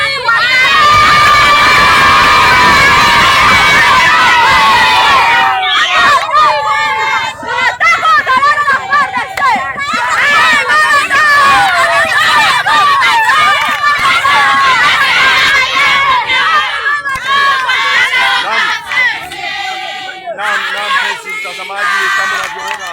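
Crowd of residents in Sange, in the Ruzizi valley, cheering the arrival of the national army FARDC: loud sustained shouting, whistling and excited children's cries, with chatter and running throughout.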